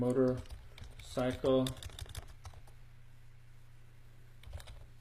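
Fingers type on a computer keyboard in a run of soft, close clicks, with a person talking over the first two seconds before the keystrokes continue faintly alone.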